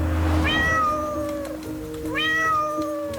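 A lost kitten meows twice in the rain, each a drawn-out, rising then falling cry, close and clear above a steady low background hum.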